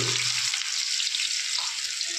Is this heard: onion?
yes